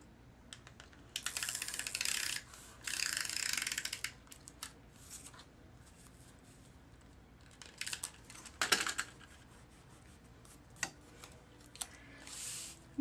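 Snail tape adhesive runner laying adhesive on card stock, a few quiet bursts of dry ticking and rasping clicks in short strokes, separated by near-silent pauses.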